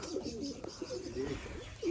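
Pigeons cooing softly outdoors under dense trees, a faint low warbling coo repeating over a quiet background.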